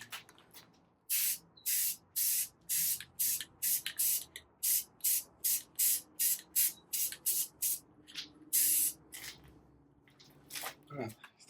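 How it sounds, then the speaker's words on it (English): A spray can applies satin black paint to bumper trim in a long run of short, close bursts, each sharp hiss lasting about half a second with brief gaps between, ending with a few quicker sprays. "So now we just get ready to paint it."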